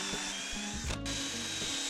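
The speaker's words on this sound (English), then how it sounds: "Let's just drill our holes first." A power drill whirs continuously at close range while boring holes in a container roof, briefly dipping in pitch near the middle before spinning back up.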